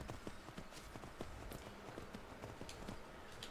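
Horse hooves clip-clopping in Skyrim, a quick, even run of soft thuds at a steady trot, fairly faint and continuous with no voices.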